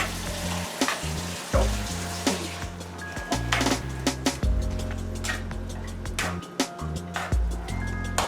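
Chickpeas stirred into a hot frying pan, crackling and sizzling steadily with repeated scraping and clattering stirs throughout, close and fairly loud.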